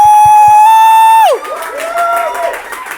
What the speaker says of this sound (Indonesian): Kita berikan tepuk tangan buat Ko Sony